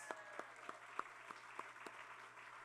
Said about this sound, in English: You can give applause to that, yes.